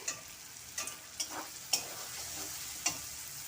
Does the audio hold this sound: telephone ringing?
no